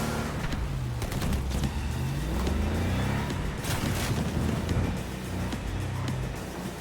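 An unwieldy car is driven in a game with a steady engine rumble and rushing wind noise, loud and continuous with small fluctuations and no talk.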